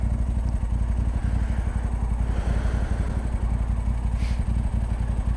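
A motorcycle runs steadily along a road, its engine giving a continuous low throbbing drone at close range with no speech over it.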